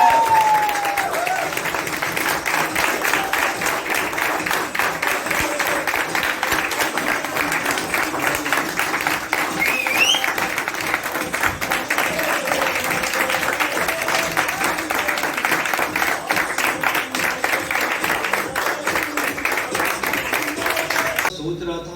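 Steady, dense applause from an audience fills the room as a speaker is welcomed onto the stage. It is loud and continuous throughout, with some crowd noise mixed in.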